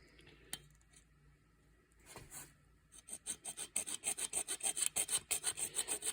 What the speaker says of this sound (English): This is an old hacksaw.